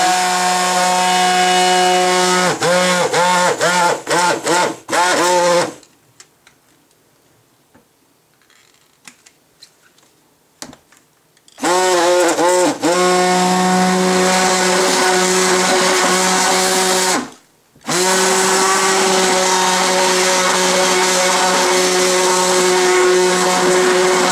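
A blender whirs loudly, mixing chocolate milk soap, running in several long roaring bursts with a high whine and rattle. It cuts out into a near-silent pause partway through before it starts again.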